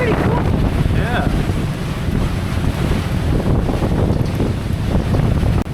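The Emerald Isle ferry moves through open water on the way to Beaver Island, Michigan, with strong wind buffeting the microphone over a continuous rush of waves and engine rumble.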